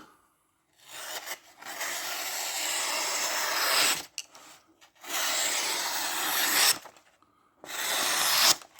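Long rasping slices of a sharp Almax knife cutting through a firm material, three sustained strokes separated by short pauses, close and clear.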